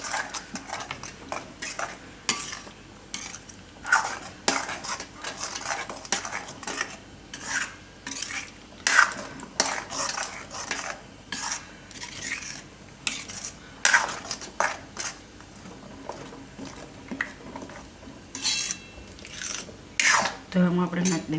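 A spoon clinks and scrapes repeatedly against a pan as a spinach mixture for palak paneer is stirred, in irregular close strokes, with someone talking in between.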